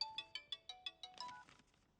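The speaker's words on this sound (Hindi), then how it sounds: "फोन की घंटी बज रही है।" A phone ringtone plays a quick series of about seven bright, evenly spaced electronic beeps that fade into a short trailing tone.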